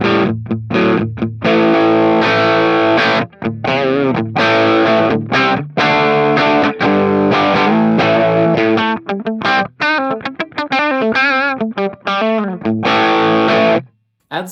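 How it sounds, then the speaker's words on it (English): Electric guitar played through a NUX MG-30 multi-effects unit with a tube screamer overdrive in front and no reverb, loud crunchy riffs with chords and single notes in choppy phrases separated by brief stops. "I think I add a tube screamer to the front and take off the reverb."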